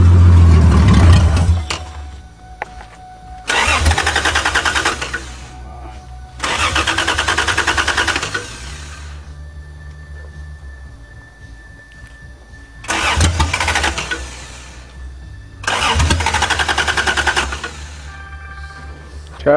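A 1982 Toyota Cressida engine cranks in five separate loud bursts with pauses between them, its starter churning hard on each attempt while a low engine hum lingers in the gaps.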